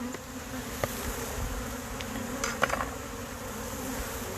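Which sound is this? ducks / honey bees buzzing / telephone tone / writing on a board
honey bees buzzing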